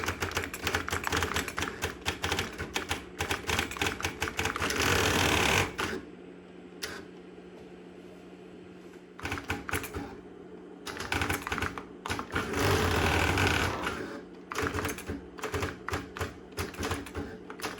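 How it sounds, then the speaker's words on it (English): A vintage thimble printer at a vintage computer festival chatters loudly in fast rattling bursts, pauses briefly, then resumes printing with another clattering run before a quieter stretch. "Notice that the machine moves the print thimble and ribbon out of the way when it's done printing"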